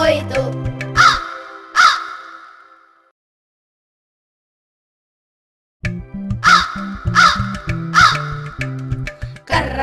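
A crow's harsh caws, used as a sound effect in a Kannada children's rhyme, ring out twice over a musical backing, then a brief silence, then three more rhythmic caws with the music.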